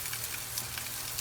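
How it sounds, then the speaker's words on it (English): Grated cassava toasting in a dry frying pan with no oil on a stovetop, giving a soft, steady sizzle and faint crackle that runs evenly throughout at low volume, with no talking. "So I'm going to just toast half of this in this frying pan"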